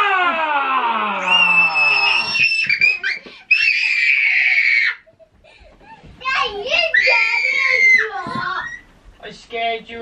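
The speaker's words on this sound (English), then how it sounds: "I actually screamed" A child's loud, high scream of fright in a home, followed by excited squealing and shrieking voices that rise and fall, with brief gaps between bursts.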